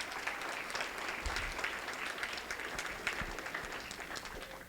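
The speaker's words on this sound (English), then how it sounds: "Please give them a round of applause." Banquet guests give a sustained round of applause for school counselors, with dense clapping at a moderate distance and a few sharper individual claps standing out.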